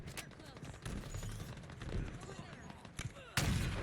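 Gunfire from the Halo Infinite video game, including sniper shots, crackles in bursts through busy in-game action, ending in a louder sharp blast, with a player talking over parts of it.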